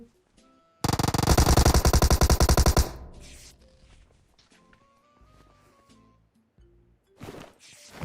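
A loud, close burst of rapid automatic gunfire in PUBG Mobile, about two seconds of tightly spaced shots, followed by quieter game sounds, footsteps and faint thuds.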